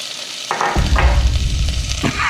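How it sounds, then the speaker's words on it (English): Peppers hit a hot pan coated in olive oil, bursting into a loud, steady sizzle and frying hiss that continues close up with a few soft stirring scrapes, no voices over it. "we're gonna put our peppers in there"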